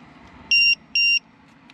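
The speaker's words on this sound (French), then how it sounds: "le lipo buzzer" Two loud, high-pitched electronic beeps in quick succession, each lasting about a quarter second, over a faint low hum, from a LiPo battery alarm buzzer on a 12S 1/5-scale FG 4x4 RC car.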